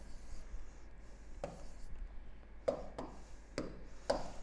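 Marker or chalk writing IUPAC chemical names on a board, with several short taps and scratchy strokes spread over a few seconds at moderate distance, no voice heard.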